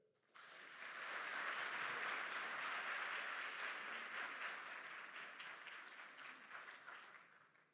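A graduation audience bursts into sustained clapping to welcome a guest speaker, the applause rising quickly, holding strong and then tapering off, with no talk over it.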